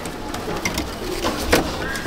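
Pigeons coo softly inside a pigeon loft, with several low murmuring calls rising over a voice talking nearby.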